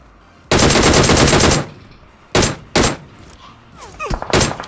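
Loud automatic gunfire from the mobile game PUBG Mobile: one long sustained burst, then two short bursts and a final quick volley, close and dominant with no talk over it.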